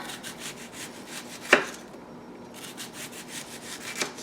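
A knife thinly slicing onions on a cutting board for pho, a series of soft, rhythmic scraping strokes with one sharper, louder cut, close and quiet.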